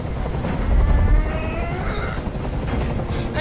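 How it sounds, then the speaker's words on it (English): A helicopter in Detroit: Become Human, a loud steady rotor drone with a heavy low rumble that surges briefly near the start, then holds alone without speech. "I can't stand that noise anymore! Tell that helicopter to get out of here!"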